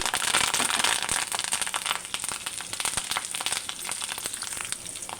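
Dry red chillies, garlic and curry leaves frying in hot oil for a tempering: a steady, dense crackle and sizzle that runs the whole time with many tiny pops, fairly close and without talk.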